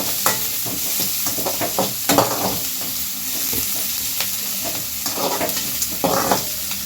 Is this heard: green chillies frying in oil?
yes